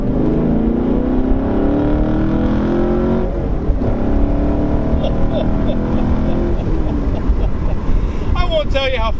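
A 2018 Camaro SS 1LE accelerates hard in second gear with the window down, its engine roaring loud and rising steadily in pitch, with wind rush and a voice speaking over it.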